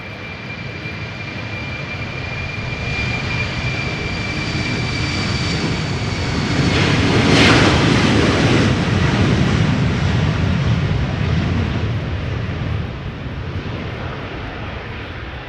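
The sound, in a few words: KLM Embraer 190 jet spooling up and taking off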